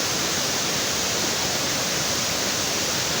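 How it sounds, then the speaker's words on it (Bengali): Bamni Falls, a hillside waterfall, roars as a dense, steady broadband rush, loud and unbroken from start to end, with no voices. "এটাকে বামনি ফলস বলে"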